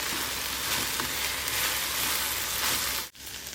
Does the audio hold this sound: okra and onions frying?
yes